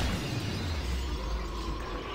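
Car glass shattering in the video game Killing Floor, a broad crunching burst of breaking glass and debris over dense game noise, with no talk.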